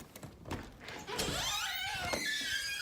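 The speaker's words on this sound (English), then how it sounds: "So I'm gonna open the door." A door being opened during a board-and-train dog session: faint scraping and a rising creaky squeal from the moving door after a few soft knocks, with no talking.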